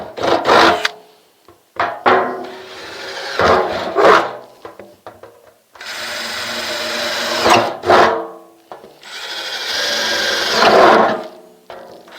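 Container potting mix being stirred and churned by hand, a loud, close scraping and rustling of gritty soil in long uneven strokes with short pauses between, and no voices.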